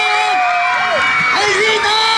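A crowd of children shouts and whoops together at a clown show in Chapultepec, Mexico City, a loud, continuous sustained cheer with rising and falling voices.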